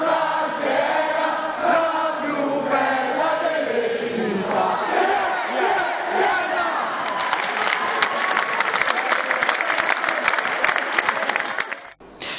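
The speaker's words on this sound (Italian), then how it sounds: "così cantano i tifosi senesi del basket, del calcio, i tifosi di Siena" A large crowd of Siena basketball and football fans chants loudly in unison with sustained voices, and clapping and cheering grow denser toward the end before a brief drop.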